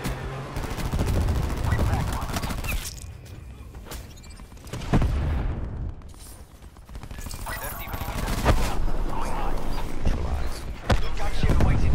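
Aircraft support gunfire in Black Ops 4, heavy rapid machine-gun bursts and booming impacts repeating across the scene, loud and close, with radio-style voices speaking over the shooting at times.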